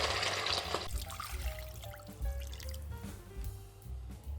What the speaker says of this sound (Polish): Zalewam wszystko wodą.